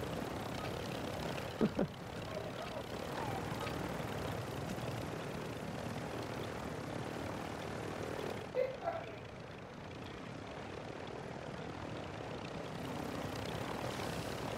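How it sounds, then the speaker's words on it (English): An exfil helicopter arriving in Call of Duty DMZ makes a steady, fairly faint rotor and engine drone that runs throughout, broken by a couple of sharp short bangs. "they called in the final exfil chopper"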